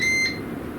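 A Ninja air fryer gives a single short, clear electronic beep as it is started, close and fairly loud, then fades into low appliance hum.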